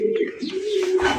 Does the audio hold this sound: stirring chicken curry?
no